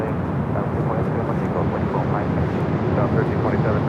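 An airliner takes off from runway 24 left at Los Angeles International Airport, its steady broad jet roar holding loud and even throughout, with faint voice chatter underneath.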